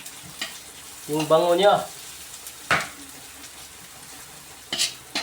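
Ingredients for native chicken tinola sizzle and hiss in a hot pan, with stirring scrapes and a few clanks, while a person speaks briefly over the frying.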